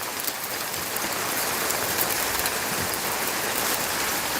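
Hail pelts a hot tub outdoors in stormy weather, a dense, continuous hiss of small impacts rattling steadily, close and fairly loud, with no voices.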